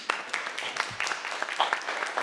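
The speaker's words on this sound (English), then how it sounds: "A round of applause." Scattered applause with distinct individual claps from a modest audience at a book launch event in Lexington, moderately quiet and continuous.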